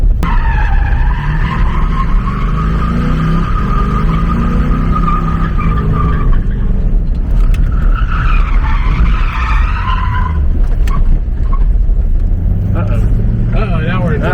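A Ford SN95 Mustang fitted with a hydraulic handbrake and mini spool skids, its tires squealing in long loud wavering howls over a droning engine that revs and fades, with voices talking through it.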